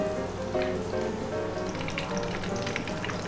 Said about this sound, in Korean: 자, 바로 튀겨볼게요.